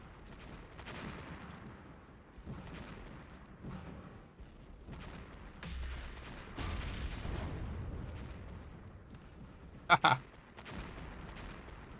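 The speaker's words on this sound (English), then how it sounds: "Let's just give the grenade launcher a bit of a whiz as well." Grenade launcher fire in the space survival game Empyrion Galactic Survival, with a cluster of sharp, loud blasts near the middle and end over a steady bed of game noise and rumbling; a person talks throughout.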